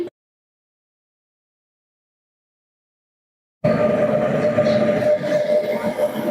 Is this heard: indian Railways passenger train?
yes